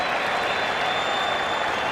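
Steady, dense applause from a large cricket crowd at the Perth Ashes Test, cheering tail-end batting, filling the whole stretch evenly with no pauses.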